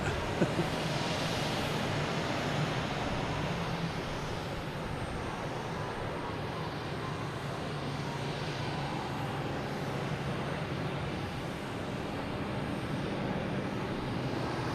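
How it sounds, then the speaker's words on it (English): A JetBlue airliner from Norfolk, Virginia, descends to land at Boston's Logan Airport, heard from around Castle Island as a steady, broad engine roar that holds evenly throughout, with no voices. "Another JetBlue sneaking in. It's coming in from Norfolk, Virginia."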